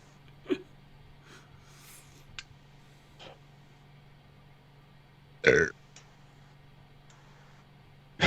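Belches at a tabletop game session: two loud, close burps stand out over faint room hum and scattered small clicks, with a softer vocal sound earlier.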